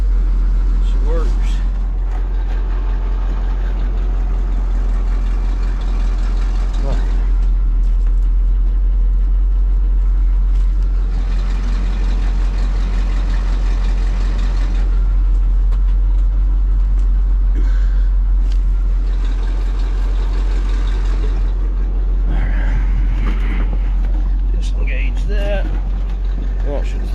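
An old dump truck's engine idles and runs steadily in a shop during a rebuild, a continuous low rumble with someone talking over it.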